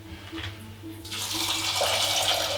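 Tap water runs into a pot of peas, first a trickle and then a strong gushing stream that swells from about one second in and holds steady at close range.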